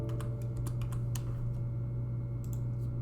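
Typing on a computer keyboard at a desk, with scattered clicking keystrokes in bursts over a steady electrical hum, with no one speaking.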